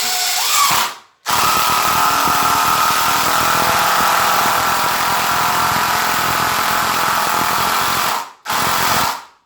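A Ridgid cordless drill driving whirs loudly and continuously for several seconds, revving up, running steadily, then stopping briefly before a short second burst.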